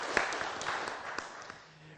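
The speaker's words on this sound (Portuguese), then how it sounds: "recebendo os aplausos!" Audience applause as a speaker is called to the centre of the stage at a legal talk, a broad steady patter of many hands at moderate distance that slowly thins toward the end.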